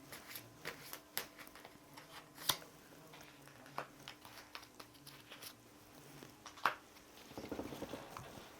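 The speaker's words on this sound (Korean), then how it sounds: "제가 2장의 카드를 더 뽑아 보겠습니다" Tarot cards are drawn and laid down by hand: soft, faint slaps and rustles come in an irregular run of quiet close taps, with a brief busier shuffle toward the end.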